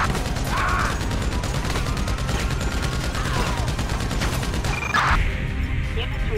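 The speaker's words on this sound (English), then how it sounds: "Units reporting shots fired at an officer in North South Porta." Rapid gunfire from a shootout in Grand Theft Auto V, loud bursts of repeated shots with clattering impacts and crashes, under a police radio dispatch voice.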